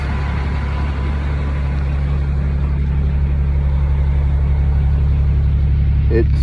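A 2008 Ram 3500 dually pickup with a 6.7 Cummins diesel and Flopro dual exhaust idles with a steady, even low rumble, close and continuous throughout.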